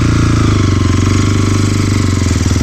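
A 172FMM motorcycle engine runs with its air filter removed, a steady loud pulsing chug throughout with no talk.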